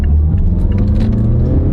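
A small, high-riding SUV with a short wheelbase accelerates on the road, its engine giving a steady, loud, close rumble with a faint whir over it and no talking.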